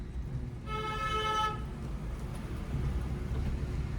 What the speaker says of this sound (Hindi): हमेशा बिफोर हॉर्न बजाना चाहिए